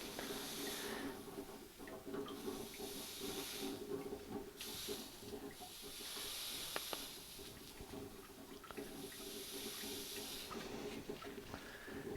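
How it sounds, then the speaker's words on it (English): A steady, soft hiss of wood sizzling on a hot bending iron runs throughout, with faint crackles and occasional rustling movement, no voices. "it gives me a little sizzle without any burning"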